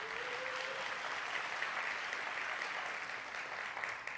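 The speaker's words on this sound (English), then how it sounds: "That deserves a round of applause." Steady audience applause fills a hunger summit hall in Indianapolis, a dense even wash of many hands clapping that holds at constant loudness throughout with no talk over it.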